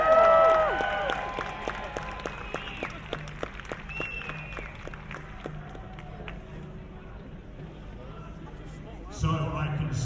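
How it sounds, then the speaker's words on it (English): Arena crowd at a Viking battle re-enactment festival in York cheers and claps as warrior armies enter, a loud burst at first that fades into scattered clapping and murmuring, with a presenter's voice over it. "Give them a cheer!"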